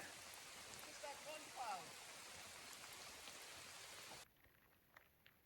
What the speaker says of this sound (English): Well, the rain did arrive.